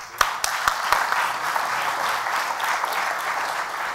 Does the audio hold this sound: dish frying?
no